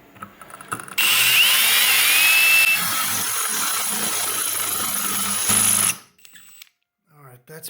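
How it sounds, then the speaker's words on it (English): A drill fitted with a fresh arrowhead bit grinds into a concrete paver, a loud, steady, harsh whine with a gritty edge that runs for about five seconds before cutting off abruptly, leaving quiet handling noises. "we're going to try drill through the concrete paver. Once again, fresh drill bit."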